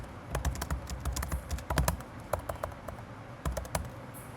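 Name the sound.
typing code on a computer keyboard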